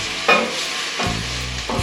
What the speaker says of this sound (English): Stir it all in